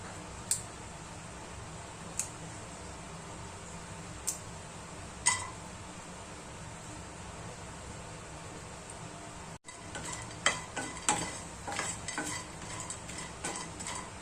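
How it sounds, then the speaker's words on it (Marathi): Whole garam masala spices, star anise, black cardamom and cinnamon, are dry roasted and stirred in a pan, making faint steady rustling broken by scattered light clinks of spoon on metal, growing busier toward the end. "छान असं फिरवून घ्यायचं. स्टारफूल घेतलेला आहे, मोठी विलायची आणि दालचिनी."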